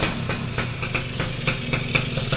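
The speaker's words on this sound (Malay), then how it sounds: "Kita start motor ni." A two-stroke motorcycle engine idles steadily with a rough, pulsing rhythm, close and loud, while timing and air-screw settings are being adjusted.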